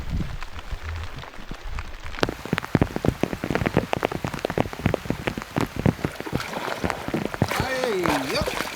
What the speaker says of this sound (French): J'adore quand il pleut comme ça,